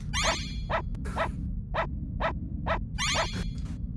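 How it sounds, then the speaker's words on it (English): Dog barking in the SNES game Secret of Evermore: a rapid series of about seven short, sharp barks in an uneven rhythm over a steady low rumble of game background sound. "this feels like what a real dog would do. They would hear a weird sound and just bark at it."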